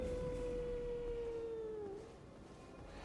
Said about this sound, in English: Is that what that howling is?